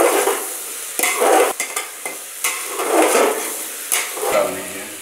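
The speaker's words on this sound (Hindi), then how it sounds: "बैंगन को मिला दीजिए।" Eggplant is mixed and fried with other vegetables in a pan for a mixed vegetable dish, with repeated scraping stir strokes over a close, steady sizzle.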